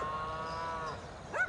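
Cows swept away by floodwater in Australia low and moo in a drawn-out call, followed by a second brief moo, moderately close over faint background noise.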